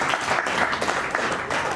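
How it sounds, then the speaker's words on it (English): A crowd claps steadily for Jersey and Holstein dairy cows at a cattle show, a dense, continuous patter of applause from many hands, moderately loud and close. "Let's actually give these five cows a round of applause."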